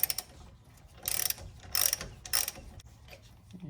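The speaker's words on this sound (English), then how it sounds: "Helps to have a nice long ratchet so you can get some torque on these things." A long ratchet works on the rear brake bolts of a Porsche Boxster 986, giving several short quiet bursts of rapid clicking separated by pauses, close by with no talk.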